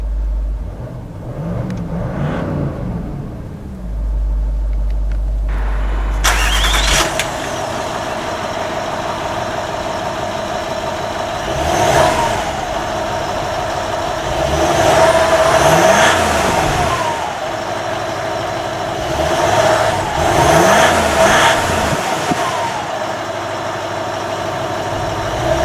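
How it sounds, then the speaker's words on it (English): A 2008 Range Rover Vogue HSE TDV8 diesel starts up close by, settles into a rumbling idle, then is revved several times to around 3,500 RPM, each rise and fall sweeping smoothly over a steady hum. "let's power on the Range Rover and see how it sounds"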